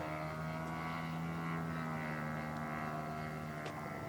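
Radio-controlled F8F Bearcat model airplane from Norwegian Model Products flying an approach, its propeller engine a steady distant drone with a sustained tonal hum that holds level throughout.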